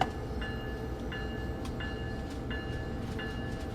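An Amtrak ACS-64 electric locomotive in Train Sim World 4 pulls away, a steady rumbling roll with repeated short high-pitched tones sounding at regular intervals over the constant noise.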